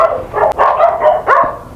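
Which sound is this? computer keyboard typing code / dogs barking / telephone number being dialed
dogs barking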